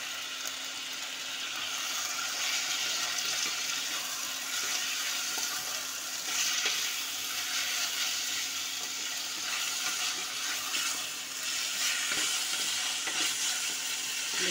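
Washed mutton liver sizzling in a pan with onion and ginger-garlic paste, a steady hiss of frying with faint stirring scrapes throughout.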